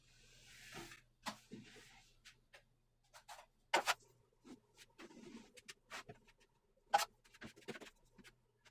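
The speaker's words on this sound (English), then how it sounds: "And we'll start by just putting some mud on here." A drywall knife spreads mud onto a butt joint with quiet scraping swipes, soft smears and scattered small ticks and taps, close and faint, with gaps of near silence in between.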